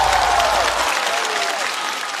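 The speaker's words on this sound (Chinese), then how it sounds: "热烈的掌声" An audience claps steadily for a couple of seconds, a dense wash of applause fading slightly toward the end.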